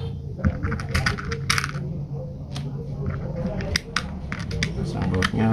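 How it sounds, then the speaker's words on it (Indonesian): A bolt fitted into the plastic gearbox of a capsule blender during repair, heard as small close clicks and light metallic taps scattered across a steady background, with a voice speaking over them. "pasang bautnya"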